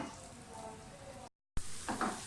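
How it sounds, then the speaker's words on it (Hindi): Chopped onions fry in hot oil in a pan with a steady, close sizzle that cuts out briefly, then returns louder with some crackle as they are stirred. "प्याज को अच्छी तरह से फ्राई कर लें।"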